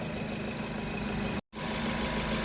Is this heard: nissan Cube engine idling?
yes